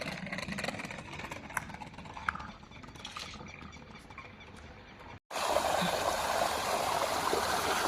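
Natural mountain stream flowing through a rocky park at Green Mubazzarah in Al Ain, UAE, a steady broadband rush of water that briefly cuts out, then returns louder and closer.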